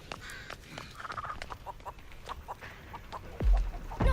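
Chicken clucking in the video game Texas Chainsaw, a series of short irregular clucks and squawks at moderate loudness, followed by a couple of louder low thumps near the end, with no talk.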